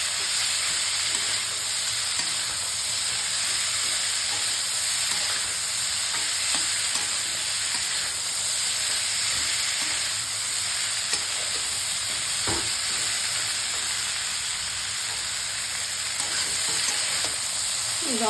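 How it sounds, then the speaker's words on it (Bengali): Broccoli and bean seeds frying in a pan without spices, giving a steady, close sizzle and hiss with faint stirring scrapes throughout and no talking. "এইটা দিয়ে ভাজা করবো, আর কোনো মশলা দেবো না।"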